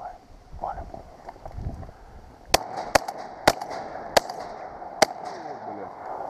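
Five sharp shotgun shots at ducks crack out in quick succession over wind and low outdoor noise on the Taganrog Bay, Rostov region, each a sudden loud burst.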